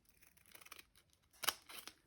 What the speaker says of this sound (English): And then if you use your scissors